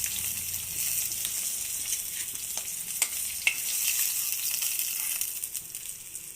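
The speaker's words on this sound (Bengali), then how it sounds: "মাছটা অল্প হালকা করে ভেজে নিয়েছি" Katla fish sizzles lightly in hot oil in a pan, a steady soft crackle with a few sharper pops and stirring clicks, close and fairly quiet, no talking.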